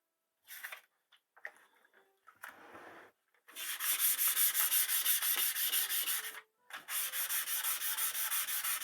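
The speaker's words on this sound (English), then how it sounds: "we're just going to take some wet dry sandpaper" Wet/dry 400-grit sandpaper rubbed along the barrel of a Remington Nylon 66 .22 rifle, first a few short scratchy strokes, then a long run of rapid, rhythmic, close back-and-forth rasping broken by one brief pause.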